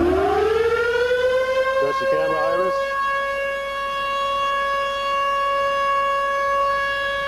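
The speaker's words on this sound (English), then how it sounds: "Siren on." A civil defense siren winds up and holds a steady loud wail before a Soviet N1 rocket engine test, with a brief spoken instruction heard under it.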